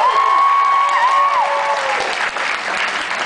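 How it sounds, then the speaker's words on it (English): An audience at a post-prom hypnotist show in Las Vegas bursts into loud applause. Steady clapping with some crowd noise continues for about three seconds, with tonal sounds ringing over the start. "Give our friends a round of applause."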